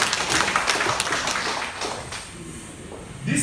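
Conference audience breaking into scattered applause, a loose patter of many hands that thins and fades out toward the end.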